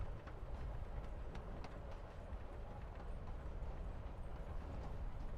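A train ride in Life is Strange: Before the Storm: a faint, steady rumble of a moving railroad car with soft rhythmic clatter running throughout.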